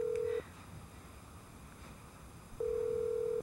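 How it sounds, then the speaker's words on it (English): An unanswered telephone call is heard from the caller's end as two long, steady ring tones separated by a quiet pause, fairly clear over faint background noise. "The phone keeps ringing and ringing."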